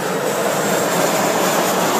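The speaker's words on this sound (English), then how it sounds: "Just wait for that plane to go by there." An airplane flies overhead, a loud, continuous broadband engine roar that stays steady throughout.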